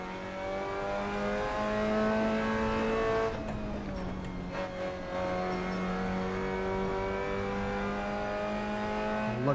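Race car engine in the Assetto Corsa racing game, loud and sustained, revving high, dipping briefly with a gear change and tyre noise around the middle, then climbing again.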